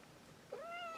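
A pet cat gives one rising meow, quiet and close, in a calm room with no voices over it.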